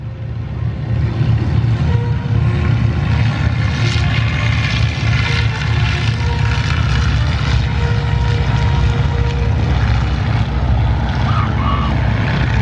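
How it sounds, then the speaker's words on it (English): A loud, steady propeller engine drone with a deep throbbing hum, sustained throughout as aircraft with 300-horsepower Lycoming engines and variable-pitch propellers pass close overhead. "he has that Lycoming 300 horsepower engine, variable pitch propeller"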